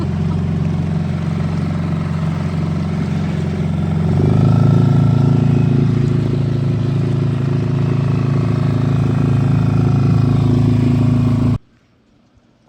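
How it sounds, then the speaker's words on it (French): Small outboard motorboat engine running steadily on the water at dusk, a loud continuous low drone that swells slightly after a few seconds, then cuts off abruptly near the end. "on fait du petit bateau à moteur"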